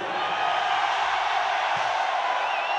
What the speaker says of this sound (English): Why are you booing?